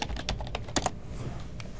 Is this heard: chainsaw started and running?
no